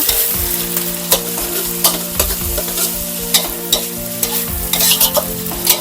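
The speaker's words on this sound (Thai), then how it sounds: "ใส่ปลากระป๋องลงไปค่ะ แล้วก็คลุกให้เข้ากันนะคะ" Canned fish stirred into set eggs in a hot frying pan, with repeated scraping and tapping of the spatula over a continuous sizzle, loud and close with no voices.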